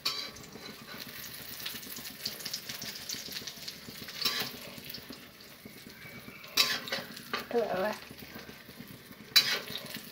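An egg wrap roll fries and sizzles in oil in a wok, a steady close hiss running throughout with a few louder scrapes and clinks of a utensil against the pan.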